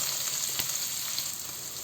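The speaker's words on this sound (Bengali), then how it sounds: "এবার দেব পেঁয়াজ কুচি" Soft, steady sizzle of chopped onion frying in oil, with a single light tap partway through.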